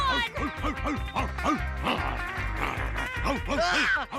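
A cartoon dog barks in a steady run of sharp, loud woofs, about two per second, over a busy animated soundtrack with music and effects.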